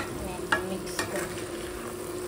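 Chicken for biryani stirred and frying in a pot, a soft continuous sizzle with two distinct spoon scrapes against the pot, close and fairly quiet with no talk.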